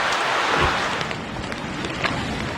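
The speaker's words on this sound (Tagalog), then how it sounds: "Mahigit 1 oras namang umulan sa Lamitan City, Basilan bago magtanghali kanina." Rain falls steadily on surfaces in Lamitan City, Basilan, a dense, continuous hiss with scattered louder drips and splashes, fairly close and alone.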